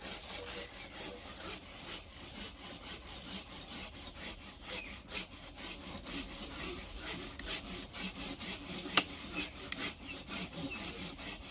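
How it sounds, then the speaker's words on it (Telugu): A hand saw cutting through a mango tree branch in an orchard, steady rhythmic rasping strokes back and forth, close and continuous, with no talking. "రంపం ఏ విధంగా దిగుతుంది ఒకసారి చూడండి బాగా"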